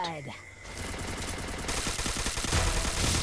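Rapid bursts of MAC-10 submachine gun fire from a Counter-Strike ranked match, dense and continuous through most of the stretch, close and loud, with game effects and speech-like sounds mixed in.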